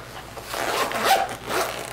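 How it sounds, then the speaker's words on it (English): Zipper being pulled closed on a homemade survival kit bag, a continuous close, fairly loud rasping zip lasting about two seconds with slight surges as it runs. "As I zip this up."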